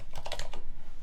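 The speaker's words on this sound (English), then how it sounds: "I'm typing so wrong now" Fast, uneven typing on a computer keyboard, a dense run of light plastic key clicks close to the microphone with no voices.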